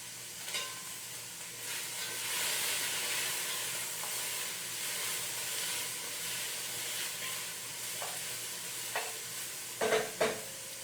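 Swiss chard stirred into a pot of late-summer vegetable minestrone, a soft steady simmering hiss with a few light spoon knocks and scrapes, the clearest cluster near the end.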